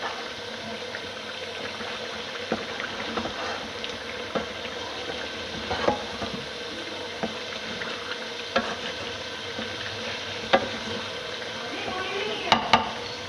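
Chicken karahi being fried with spices as the masala roasts, a steady broad sizzle in a pan broken by frequent scraping and stirring clicks, with a few sharper knocks near the end.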